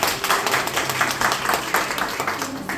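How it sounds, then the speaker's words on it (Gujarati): Loud, steady clapping from a gathered crowd in a jewellery store, welcoming a guest, with a quick regular rhythm of many hands that runs through the whole stretch. "એમને જોરદાર તાળીઓથી સ્વાગત કર્યું છે."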